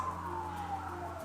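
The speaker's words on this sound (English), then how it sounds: "More police cars," A police car siren wails in the distance, a faint steady tone gliding slowly downward over low background hum, with no voices.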